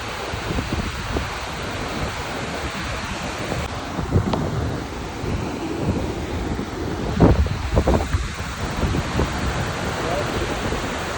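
Syange waterfall near Pokhara, heard as a continuous broad rushing roar mixed with wind buffeting the microphone, steady throughout with a few louder gusts.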